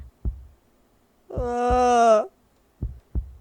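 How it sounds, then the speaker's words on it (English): A heartbeat effect in an audio drama: deep, muffled thuds in close pairs, with a droning, wavering tone swelling for about a second between beats, and no speech. "The sound of my heartbeat thrashes against my ears."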